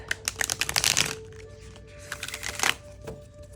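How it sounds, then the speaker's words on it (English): A deck of tarot cards is riffled and shuffled up close in quick rapid bursts, followed by a few lighter flicks as the deck is cut, with no talking. "do one more time on this side and then cut the deck"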